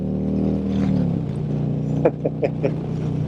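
A red Harley-Davidson Street Glide with chrome Cobra exhaust pipes rides by in a low, throaty rumble that shifts down in pitch, with a few short pops near the end.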